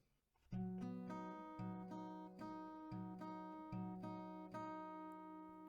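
An acoustic guitar strums a repeating chord progression from a song, each chord ringing out with steady rhythmic strokes, played close and clear with no voices.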